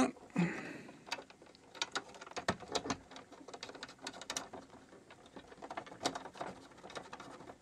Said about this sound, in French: On va venir mettre nos deux dernières vis.